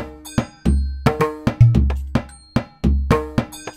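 Two layered drum machine tracks using an Indian percussion kit, one two bars and one one-and-a-half bars long, form a polyrhythm: dense tuned drum strikes and deep bass thumps interlocking in a shifting pattern, close and loud without talk.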